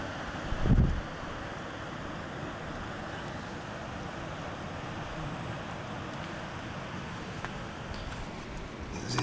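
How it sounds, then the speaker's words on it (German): A steady broadband rush of storm wind from Orkan Joachim blowing outdoors, with one dull thump near the start and no voices. "vielleicht hört man etwas, wie der Sturm noch am Wüten ist."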